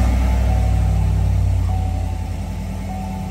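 A Chevrolet Silverado Z71 pickup engine runs at a fairly steady idle just after starting, a close low rumble that eases slightly in loudness toward the end, with no talk.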